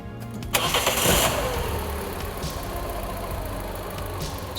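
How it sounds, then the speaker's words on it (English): A car engine cranks and catches with a loud burst, then settles into a steady idle rumble close by. "You can now start the engine and ensure the air conditioning is switched on."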